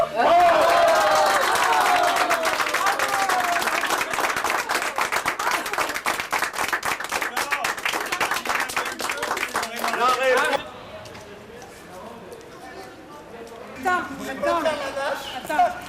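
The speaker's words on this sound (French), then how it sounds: "Alors, applaudissez-la tous." Guests at a wedding anniversary celebration clap loudly and steadily for about ten seconds with some chatter mixed in, then the applause stops abruptly and quieter talking and room sounds follow.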